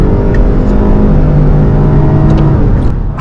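Lexus LS hybrid sedan accelerating hard from inside the cabin, a loud continuous engine drone with rising tones as speed builds, no talking.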